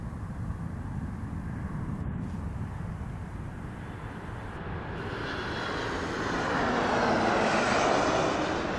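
A Southwest airliner takes off from runway 26 right at Las Vegas. A loud jet engine roar builds steadily, with broadband noise swelling toward the end as the plane accelerates.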